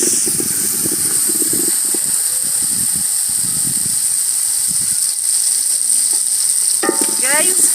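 Tomatoes cook in a pot in an African village kitchen, giving a continuous soft sizzle and hiss with intermittent stirring scrapes. A few brief tonal sounds come near the end.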